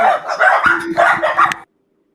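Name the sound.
dogs barking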